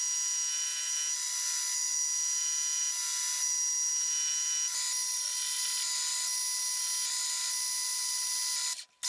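A metal lathe turns down a part to match an oil filter's size, giving a steady, loud, high-pitched cutting whine with a constant tone that shifts slightly midway and cuts off abruptly near the end.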